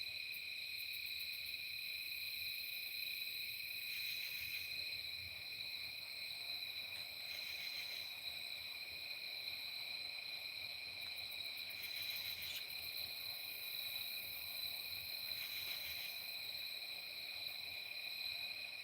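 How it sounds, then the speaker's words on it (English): Crickets chirp in a steady, high-pitched drone, with faint pulsing swells every few seconds; no voices, just the insects in a quiet night setting. "Listening to crickets"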